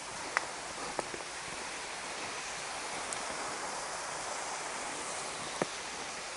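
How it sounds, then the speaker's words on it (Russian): Water flowing in a small stream near a waterfall at Lazarevskoye, a steady, even rushing wash heard close by with a few faint clicks, no voices. "тоже речка, ну вернее вода течет."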